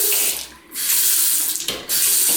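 Water gushing from a bathroom sink tap, a loud, close hissing splash that cuts off briefly twice as the flow is stopped and restarted.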